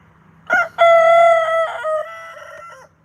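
A big black backyard coop rooster crows once loudly and close, a short opening note followed by a long sustained call that trails off, with no talk.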